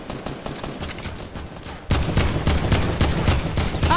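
Dense bursts of gunfire in the video game Fortnite during a squad match, loud and continuous, with rapid volleys that grow heavier and closer partway through.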